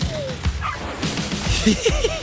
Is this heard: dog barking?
yes